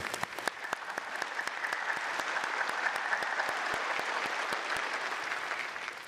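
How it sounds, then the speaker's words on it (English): Commencement audience at Auburn University's spring ceremony claps for university leaders and faculty: dense, sustained applause from a large crowd, with a few louder individual claps at the start, holding steady throughout. "let's give a big round of applause for all of the university leaders and faculty who've prepared you."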